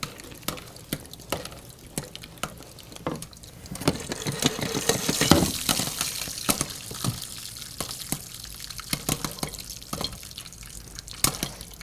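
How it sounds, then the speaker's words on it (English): Simmering caramel for caramel popcorn is stirred in a pot, giving irregular wet scraping and dripping clicks close up, with a busier stretch in the middle of the stirring. "Remember, keep stirring. Even if you're on simmer, you still want to stir this."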